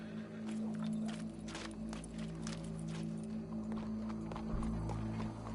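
A horse's hooves clop at an irregular walking pace, faint and somewhat distant, over a steady low background hum.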